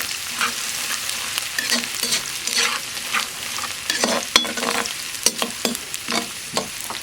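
Garlic sautéing in hot oil for spicy Schezwan cauliflower: a bright continuous sizzle broken by repeated scraping stirs of a spatula, close and fairly loud, with no voices.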